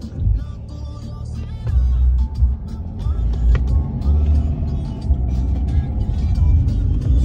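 Steady low engine rumble and road noise from inside a car moving through Frankfurt toward the main railway station, continuous and close throughout with faint people talking.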